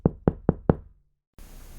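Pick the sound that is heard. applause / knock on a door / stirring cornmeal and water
knock on a door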